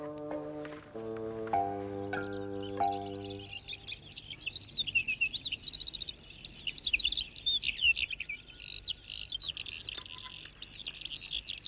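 Many small birds chirp and twitter busily near a road, a dense high chattering that sets in after a short stretch of music and carries on steadily to the end.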